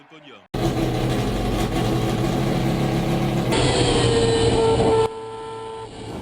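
Mazda 787B rotary-engine race car, the Le Mans winner, producing a loud, steady engine drone with a strong harmonic whine that shifts in pitch midway and drops slightly near the end.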